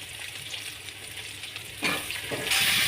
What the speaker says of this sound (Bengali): পেঁয়াজটাও লাল লাল করে ভাজা হয়ে গেছে, এবার সবজিগুলো দিয়ে দেবো